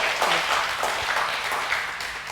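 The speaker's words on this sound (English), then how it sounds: "Give me a big round of applause for that." Applause from an audience at a startup speaker event in Bali, a steady wash of many hands clapping at moderate level, continuous and fairly diffuse throughout.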